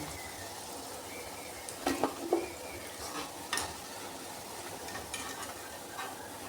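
Pakoras frying in hot oil give a soft, steady sizzle throughout, with a few brief louder crackles and stirring clicks near the middle, close by and with no talk.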